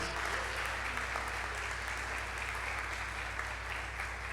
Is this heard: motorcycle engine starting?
no